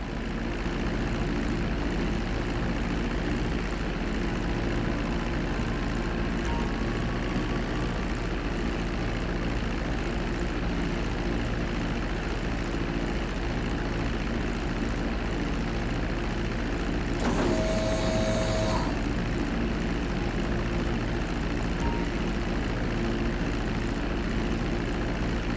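A low-flying airplane in GTA 5 drones steadily throughout, a loud constant engine and propeller roar with a brief tonal blip near the end and no speech.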